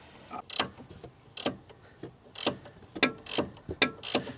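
A ratchet wrench clicks in short bursts while turning a drop link fastener under a Jeep Renegade, about eight sharp ratcheting strokes in an uneven rhythm, close and clear with no talk.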